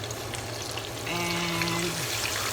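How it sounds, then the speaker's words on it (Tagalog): A pork leg for crispy pata goes into hot oil. A low background bubbling jumps to a louder, fuller sizzle partway through and keeps crackling nearby. "The oil is hot now, so I can put this now."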